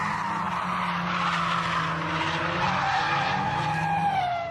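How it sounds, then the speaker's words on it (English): Drift cars slide through a wet race-track corner in Kyushu. A loud, continuous roar of revving engines blends with sustained tyre skidding and squeal for the whole stretch, close by, with no voices. "Even on a wet track, some cars drift very close together."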